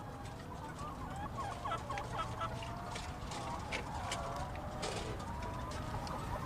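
Chickens cluck and chatter in a dense, continuous chorus of many birds close by, with a faint voice in the background.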